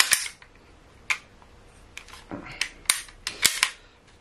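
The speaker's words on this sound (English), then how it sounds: "push this button here on the back and flip down the lever, and it comes right out" A Beretta 92X Centurion pistol is taken down, giving sharp, close metallic clicks and snaps as a button is pushed and a lever flipped, with lighter rattles and handling noises between them.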